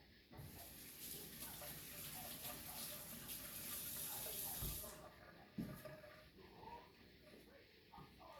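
Hands are rinsed of broccoli under a running kitchen tap, a steady loud splashing rush for about five seconds before the flow stops, followed by quieter drips and handling.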